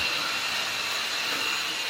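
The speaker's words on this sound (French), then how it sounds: "Aspirateur." A vacuum cleaner runs steadily indoors, a continuous close broadband whine and roar with no pauses and no talk over it.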